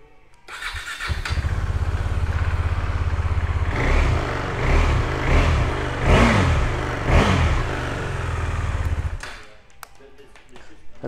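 A 2017 KTM Duke 390 fitted with an Akrapovic exhaust cranks and fires up, then idles loudly up close and gets several sharp throttle blips, settling back before cutting off near the end.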